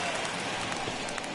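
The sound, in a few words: heavy rain in a baseball video game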